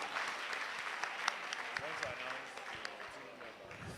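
Steady applause from a crowd, dense continuous clapping with a few sharper claps standing out, filling the whole stretch at moderate loudness.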